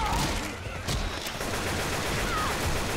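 Rapid gunfire aimed at a Hunter in Left 4 Dead 2, a continuous dense rattle of shots layered with game noise, loud and close, with brief voices mixed in.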